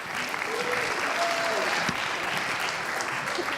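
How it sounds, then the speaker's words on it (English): Wedding reception guests applaud as the best man is introduced, steady clapping throughout with faint voices murmuring underneath. "Can we have a round of applause, please, for Ameek?"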